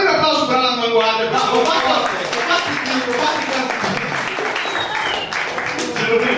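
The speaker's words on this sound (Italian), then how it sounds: "Fatemi un applauso per l'Avanguardia." A live audience at an Italian stand-up comedy show applauds steadily, with dense, continuous clapping and crowd noise filling the whole stretch and voices mixed in.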